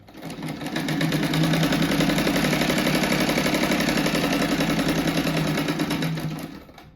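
A sewing machine runs steadily while stitching fabric for a bunny-shaped rug, a continuous close mechanical whir with rapid needle rhythm that starts, holds for about five seconds, then winds down.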